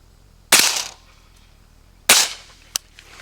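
Two suppressed gunshots from a long 5.56 rifle fitted with a can, each a sharp loud crack with a short decaying tail, followed by a brief metallic click.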